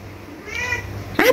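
A cat meows with a rising, drawn-out cry in the middle, then gives a sharper, louder meow at the end, close by in a quiet room.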